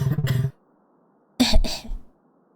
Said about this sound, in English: They get stuck in my throat and make me cough.